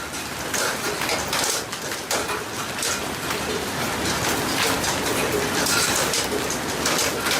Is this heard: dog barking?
no